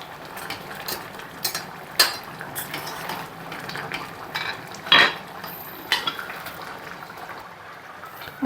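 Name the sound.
stirring broad bean curry in a pan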